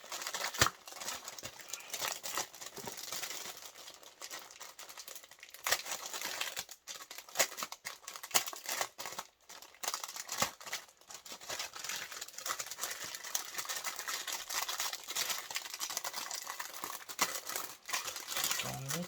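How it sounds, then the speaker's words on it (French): Crinkly plastic packaging from a craft-supplies haul being opened and handled, a continuous close rustling and crumpling with small crackles throughout, fairly quiet. "je vais essayer de vous ouvrir sans trop faire de bruit"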